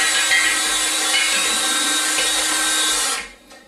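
A power drill with a whisk attachment stirring wine in a home fermenter, a steady, loud whirring hum that runs for about three seconds and then winds down.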